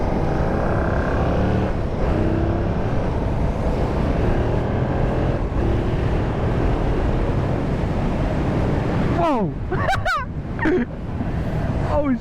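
A 2025 Yamaha MT-07 motorcycle ridden at speed gives a steady, loud roar of engine and rushing wind, with a few brief high squeaky chirps near the end.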